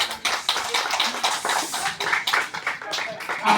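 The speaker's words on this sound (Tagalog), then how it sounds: "I-welcome katabi ng palakpak." Audience applause at a golden wedding anniversary celebration, scattered clapping rising and falling with voices talking over it.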